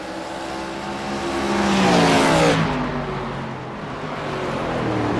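ARCA stock cars race side by side through a big turn at Mid-Ohio, engines roaring loud and swelling as they pass close by and then fading slightly, with more cars droning behind.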